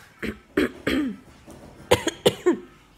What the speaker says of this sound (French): je tousse aujourd'hui